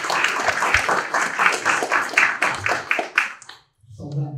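Lively audience applause, a dense spatter of many clapping hands, fills the room for several seconds, then dies away abruptly before a voice begins speaking.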